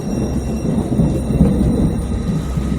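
Deep thunder rumbles continuously through a steady wash of rain, with no voices over it.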